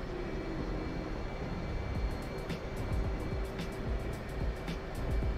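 A jet throttles up to taxi along an aircraft carrier deck in the DCS World flight simulator, a steady low engine rumble and whine that stays even throughout.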